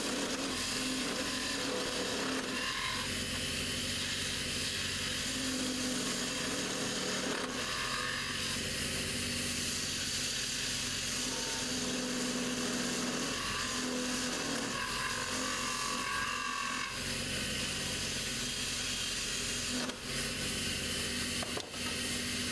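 A parting tool cuts into wood on a lathe while turning a fishing rod handle, a steady, close scraping hum over the motor's drone, with short breaks where the cut pauses.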